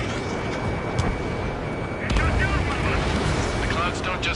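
Missile launch in the Ace Combat 7 flight combat game: a steady roaring rumble that surges louder around the midpoint into a broad rushing blast, continuous with no voices over it.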